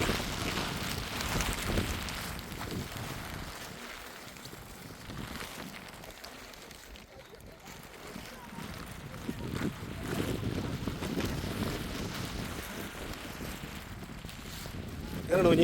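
Strong wind gusting across a cool, misty hilltop viewpoint with kurinji blooms, buffeting the microphone in loud, uneven rushes that swell and ease over the whole stretch, with a voice faintly present at times.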